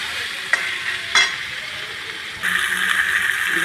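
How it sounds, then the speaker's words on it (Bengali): Vegetables fry in a pan with a steady broadband sizzle, punctuated by two brief sharp stir clatters early on, then the sizzle grows louder and fuller after a couple of seconds as more goes in. "এই যে মানে সবজিটা একটু ভাজা ভাজা করে নেবো"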